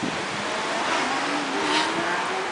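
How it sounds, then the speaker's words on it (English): Strong wind blowing around a house in Porter Ranch, a steady, broad rushing roar with gusting swells, loud and continuous with no voices. "This is the wind in our crazy house."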